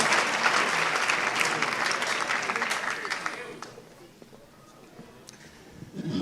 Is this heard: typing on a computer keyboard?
no